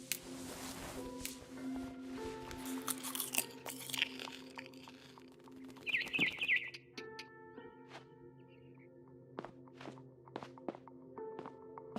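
A character in the video game What Remains of Edith Finch chews and crunches while eating, with scattered close thunks and bites over a low ambient hum and a brief bird chirp, quiet and irregular, with no talking.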